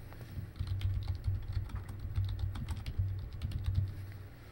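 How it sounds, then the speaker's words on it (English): Quiet, quick clicking of keys as someone types a title on a computer keyboard, an irregular run of light taps over a low background hum, with no speech. "I'm going to type my title of my screencast"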